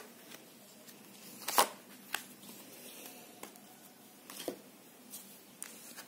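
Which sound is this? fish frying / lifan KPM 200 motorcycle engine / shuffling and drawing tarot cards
shuffling and drawing tarot cards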